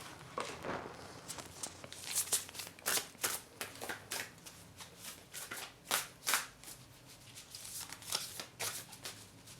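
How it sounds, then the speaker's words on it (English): Oracle cards from a goddess deck being shuffled and drawn, a steady run of crisp riffling flicks and card slaps close up for several seconds, with no speech. "Let me pull a goddess card."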